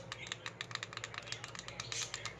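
Rapid, uneven clicking from the buttons of an XDesign advanced fidget cube, a steady run of small, sharp clicks close by with no talking.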